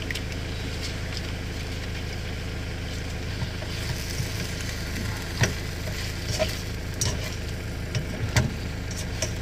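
Vegetables and chow mein stir-fry sauce sizzle in a pan of rabbit stir fry cooked outdoors, a steady hiss over a low background drone with scattered crackles and pops.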